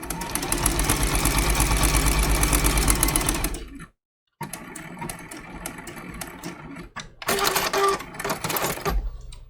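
A sewing machine runs steadily and loudly through appliqué stitching on a quilted trivet, breaks off for a moment of silence, then resumes in shorter bursts of back stitching with rhythmic mechanical whirring.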